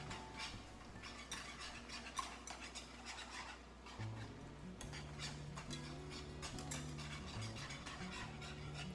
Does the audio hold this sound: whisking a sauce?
yes